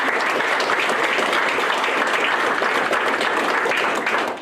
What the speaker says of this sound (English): Let's give a round of applause for our 2024 Myrtle Beach Hall of Fame